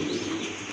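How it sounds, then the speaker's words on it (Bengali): A big-sized pair of pigeons for sale coos steadily and close, a continuous low murmuring tone with no voices over it. "খুবই ভালো মানের এক জোড়া কবুতর বিগ সাইজে"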